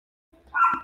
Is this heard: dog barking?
yes